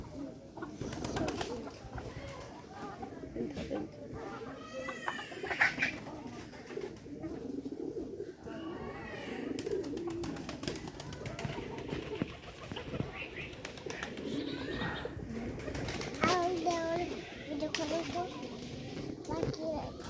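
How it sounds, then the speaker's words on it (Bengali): Pet pigeons coo softly nearby, with a few wing flaps among them, while people talk over the birds throughout. "পাখিগুলো কি সুন্দর করে রয়েছে"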